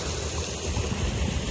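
Irrigation water from a solar-powered pump running steadily into a potato field, a continuous close rushing and gurgling flow with no talk over it.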